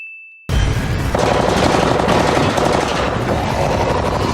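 Sustained automatic gunfire from a Walking Dead TV episode, starting abruptly after a brief tone and continuing as a loud, dense, unbroken rattle of rapid shots.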